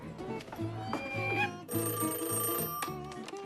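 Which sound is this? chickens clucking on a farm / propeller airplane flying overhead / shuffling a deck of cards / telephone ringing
telephone ringing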